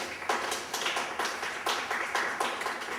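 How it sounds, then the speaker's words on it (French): Several people clap in a Simon Says game, a short run of quick, fairly even claps heard close up. "Jacques a dit applaudissez."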